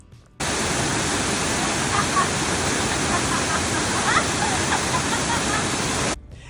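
Steady, full-bodied rush of a waterfall, loud and continuous, a broad hiss of falling water filling the whole clip without letup.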